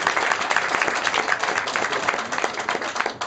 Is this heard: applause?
yes